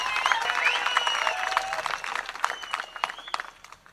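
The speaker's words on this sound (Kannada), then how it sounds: "ಒಂದು ಸೌಜನ್ಯ ಸಣ್ಣ ಅಕ್ಕನಿಗೆ ಒಂದು ಜೋರಾಗಿ ಚಪ್ಪಾಳೆ ತಟ್ಟಿ ಧನ್ಯವಾದಗಳನ್ನು ಹೇಳಿ" A crowd claps loudly in thanks, a dense burst of applause that thins out and fades toward the end.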